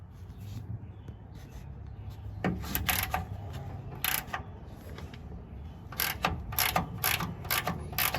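A ratchet wrench with a 5/8 socket works a bolt during engine removal prep on a Kaiser Darrin, giving quick clicking bursts and metallic taps over a low steady background hum, with no talking.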